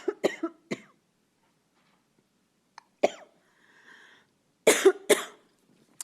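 A person coughs several times in harsh bursts, first a quick cluster, then single coughs after a pause, ending in two loud close coughs with a faint breathy hum between.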